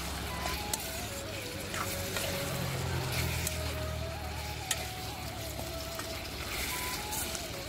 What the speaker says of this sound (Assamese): এতিয়া মই মাংসখিনি ভাজি থাকিম।